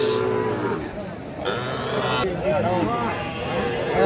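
A Sahiwal bull calf moos at a busy cattle market in Nawabganj, Dinajpur, its low calls rising over steady crowd chatter and people talking nearby.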